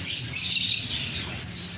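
Pigeons at a bird market in Juharabad, a dense chorus of chirps and cooing with soft rustling, steady and fairly close, with no talking.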